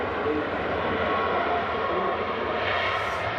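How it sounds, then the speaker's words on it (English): A Ryanair airliner arriving from Bologna touches down at Manchester Airport, a dense, loud jet roar that stays steady and rushing for the whole few seconds, with no voices. "Ryanair touching down from Bologna"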